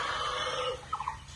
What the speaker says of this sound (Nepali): मजाको भाले